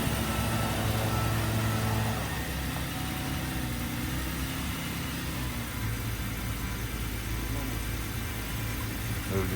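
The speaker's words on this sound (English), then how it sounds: "The engine on this sounds really good." A 2015 Chevrolet Camaro at a police auction, jump-started and left idling. Its low, steady engine rumble sits under a broad hiss of background noise, with a slight shift in tone partway through.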